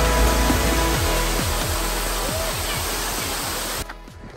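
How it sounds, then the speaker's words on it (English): Rushing water from Nam Wang waterfall on Koh Samui, Thailand, forms a dense, steady roar, with faint speech-like tones underneath and a sudden drop in level near the end. "Next up, Nam Wang waterfall."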